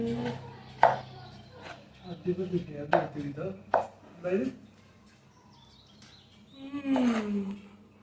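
Several sharp knife chops through potatoes on a cutting board, spaced irregularly, close by, with a voice and other background sounds in between.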